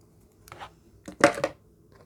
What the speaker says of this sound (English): we're going to use our scissors and we're going to cut it